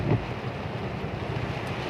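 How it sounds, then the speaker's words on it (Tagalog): Strong wind roars and buffets the microphone in a heavy rainstorm, a steady, dense rush with a brief louder gust at the start and no voices. "Sobrang lakas oh, ang lakas ng hangin oh."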